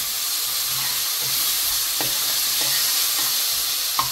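Ginger garlic paste with onions frying in a pan for a vegetable pulao, a loud, constant hissing sizzle with soft, intermittent scraping stir strokes close by.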